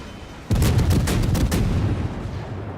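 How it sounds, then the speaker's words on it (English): Naval guns fire from a warship's mounts in World of Warships, a sudden loud salvo of booming, overlapping gunfire that opens the clip and rolls on as a sustained roar with a few distinct shot bursts. "He's doing what he can with his gun mounts, which isn't a lot in this situation."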